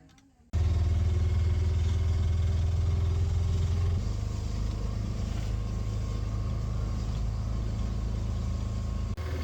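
An auto rickshaw engine starts up and then runs with a loud, steady low rumble and chugging idle throughout the ride in Kerala's Alleppey backwater region, with no talk over it.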